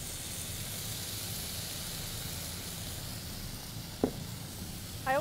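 Wine poured into a hot pan sizzles with a steady, soft hiss that holds for several seconds, broken near the end by a couple of brief clinks or scrapes.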